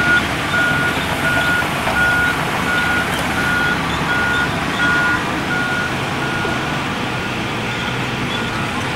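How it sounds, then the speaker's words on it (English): A water truck backing up at a construction site for a water recycling facility, its backup beeper sounding at a steady rhythm over a constant rumble of engine and site noise, fairly close and loud. "Got a water truck coming in here."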